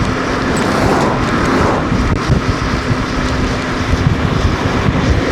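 A car passes close to riders on electric scooters, one of them a Dualtron Victor, on an open road. The engine whooshes by amid steady, loud wind rush buffeting the microphone.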